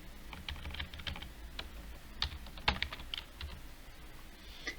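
Computer keyboard typing with irregular clusters of light key clicks and a few sharper taps, close and alone, while question options are entered into an online quiz editor.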